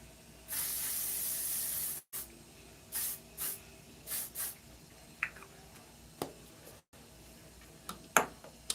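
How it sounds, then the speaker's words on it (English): A handheld spray bottle mists a face in several short hissing bursts: first one long spray, then quick puffs at a steady pace, close and clear, with small handling clicks between them. "Okay, spray this face."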